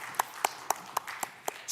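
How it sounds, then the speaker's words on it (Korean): A church congregation at a Korean Sunday worship service claps in unison, a faint, evenly spaced rhythm of about seven sharp claps in under two seconds. "하나님께 영광의 박수를 올려드리겠습니다"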